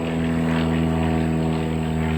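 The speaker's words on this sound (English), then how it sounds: "Wait for the airplane to go over." A propeller airplane passing overhead at a rural property, a steady droning engine hum with a constant tone, moderately loud and unbroken, no voices.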